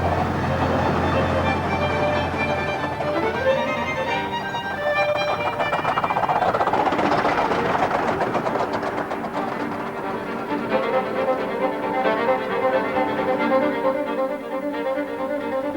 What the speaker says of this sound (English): Narrow gauge railways, whether built on the whim of millionaires or to slave away up Welsh mountains, all serve as miniature reminders of the great days of steam.